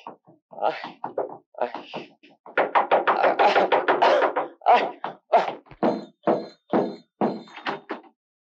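Someone bangs hard on a house door in quick, irregular runs of heavy thuds, loud and close, with a few brief pauses between bursts.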